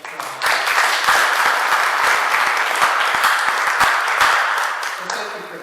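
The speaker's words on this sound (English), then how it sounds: "let's give Chris a round of applause" An audience gives Chris a round of applause after people shared their experiences. Dense, warm clapping builds quickly, stays loud and even for several seconds, then tapers near the end.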